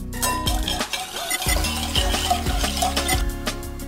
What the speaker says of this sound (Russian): И перемешать как следует